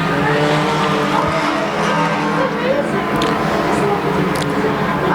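Race cars circling the Lonestar Speedway track, a dense continuous engine roar with faint tire squeal, heard under an excited announcer's commentary.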